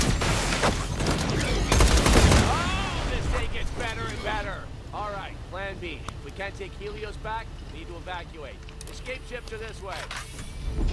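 Gunfire in the video game Borderlands The Pre-Sequel, loud bursts of shooting at the start that fade into scattered shots beneath voices talking over the action.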